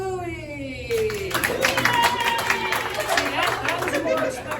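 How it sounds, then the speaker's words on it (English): Audience applause and clapping in a live show crowd, broadband patter swelling for a few seconds over a tone fading out at the start, with crowd chatter mixed in. "by show of applause, who here is familiar with the show Bluey?"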